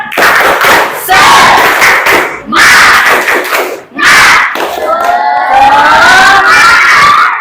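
An Indonesian classroom does a spirit clap and cheer, loud bursts of group shouting and clapping in rhythmic chunks, ending in a drawn-out chant of voices.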